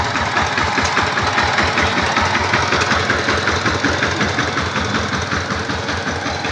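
A farm tractor engine runs at a steady idle, a loud continuous low rumble with rapid rhythmic knocking pulses that hold evenly throughout without pause, and no talking over it.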